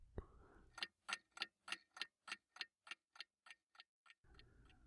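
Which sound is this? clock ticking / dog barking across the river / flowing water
clock ticking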